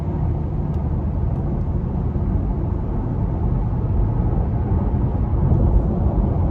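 A 2020 Porsche Taycan 4S electric car accelerates, heard from inside as a steady, loud rumble of motor and road noise that swells slightly toward the end.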